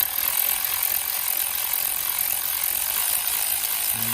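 A Milwaukee power ratchet removes a long alternator bolt on a 2.4L 6th-generation Hyundai Sonata, a loud, steady, close whirring buzz running without a break and with no talk.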